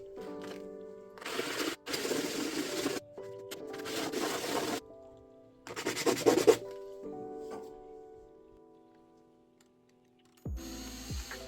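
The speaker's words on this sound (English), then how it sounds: "we're just going to use some sandpaper and I'm just going to rub it all on there" Sandpaper is rubbed by hand over a bicycle part on a cheap bike build, making several separate bursts of gritty scratching strokes with short pauses between them. The sanding is heard over faint music.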